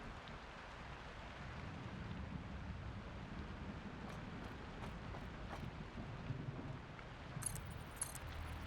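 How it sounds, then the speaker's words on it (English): Steady rain pours in the video game Satisfactory, a dense, even hiss of falling drops that holds at one level throughout, with no voices. "here comes the rain"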